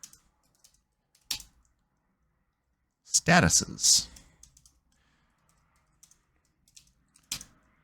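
Computer keyboard typing while building a spreadsheet model, sparse scattered key clicks with a brief burst of quick keystrokes, fairly quiet and close, with a few words spoken in between.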